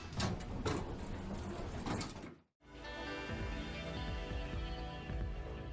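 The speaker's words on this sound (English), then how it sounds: "It seems you managed to unlock the gate" A gate in the video game Digimon Story Cyber Sleuth unlocks with a mechanical clunk and grinding, followed after a brief silent gap by a steady whirring slide as it opens, loud and close.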